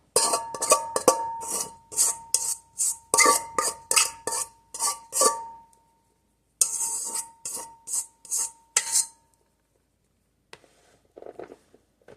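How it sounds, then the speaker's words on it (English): Dry ingredients and utensils clatter into a mixing bowl while preparing two loaves of sourdough bread: a run of quick, close scrapes and clinks, a brief pause, then another burst of scraping before it trails off into faint taps. "I want to make sure that I add everything to the bowl"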